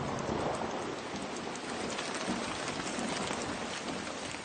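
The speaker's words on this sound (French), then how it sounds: "des gouttelettes qui retombent avec la pluie sur la forêt" Rain falling on the Amazon rainforest, a dense steady hiss of drops pattering on leaves, close and continuous throughout with no voices.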